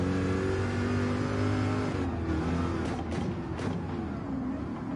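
A race car engine roars at high revs while overtaking a Supra on the Sardegna circuit in Gran Turismo 7, a loud sustained drone with rising and falling tones and brief whooshes as cars close in, with no talk.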